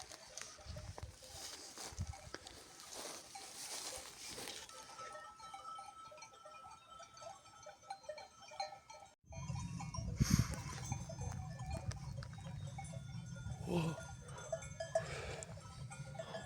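Sheep graze in dry, yellowed autumn grass, giving occasional faint bleats and rustles against a quiet outdoor background that grows busier and rumbling in the second half.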